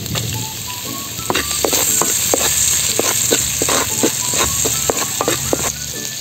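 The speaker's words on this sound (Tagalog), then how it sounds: "Sa pinagprituhan po ng talong at bangus, dito na tayo magigisa" Garlic sautéing in oil left from frying eggplant and milkfish, a loud close sizzle with rapid clicking spatula strikes and rattles against the pan, no voices.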